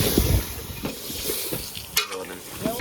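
Fish frying in a pan gives off a crackling sizzle, broken by stirring scrapes and light clinks of a utensil against the pan, close and fairly loud.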